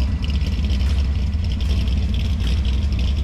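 A 1966 Mustang 289 V8 idles steadily up close, a deep, loud rumble with a faint clatter on top, heard alone for about three seconds.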